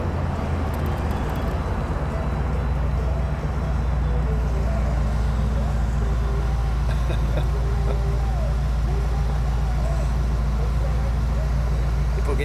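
A white 1982 Excalibur Phaeton drives along with its engine giving a steady low rumble, heard from inside the car under constant road and wind noise.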